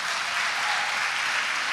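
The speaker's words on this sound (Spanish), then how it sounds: "Date un aplauso a ti mismo." Church audience applause, a dense steady wash of many hands clapping together, fairly loud and filling the whole short moment without talk.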